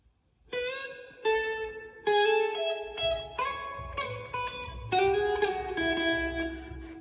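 Electric guitar plays a solo lick from a song, a run of clean, sustained picked notes with smooth slides between pitches, steady and close, with no talking.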